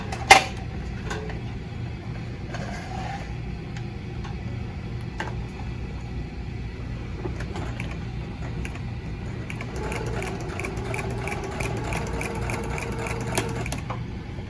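Sewing machine quilting a straight line on a Vera Bradley-style quilted tote, a quiet steady mechanical whir with light ticking, running close and continuous through the whole stretch.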